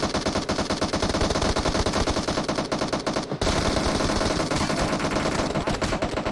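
Dense machine-gun fire from the mobile game PUBG Mobile rattles nonstop at close range, loud and rapid bursts that pause for a split second before resuming.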